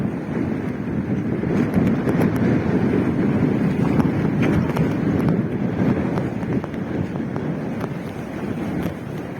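Strong, steady wind before a heavy rain roars and buffets the microphone continuously, a dense rumbling rush with no breaks.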